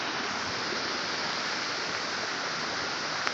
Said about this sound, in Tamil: இங்கே கொஞ்சம் தண்ணி போயிட்டுருக்கு.